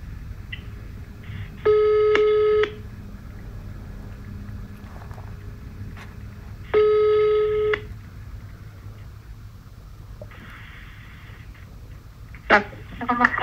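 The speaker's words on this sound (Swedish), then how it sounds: "Då ska jag göra så att jag kopplar ut till Vanessa för att hon kikar där" A telephone ringback tone sounds in two long bursts while a call is being transferred, separated by quiet line hiss, followed by fainter beeps and clicks near the end.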